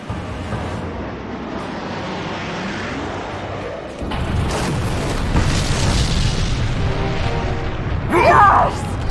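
A film explosion as a mothership generator bank is blown apart: a heavy, rumbling boom swells and rolls on for several seconds, with a sharper burst near the end, loud and dense.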